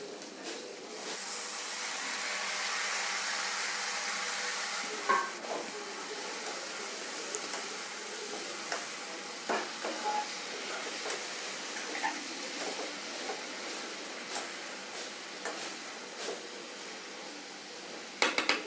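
Five or six finely chopped tomatoes cook in a pan with a steady, soft hiss that eases after the first few seconds, dotted with scattered light ticks and clicks, with no one talking.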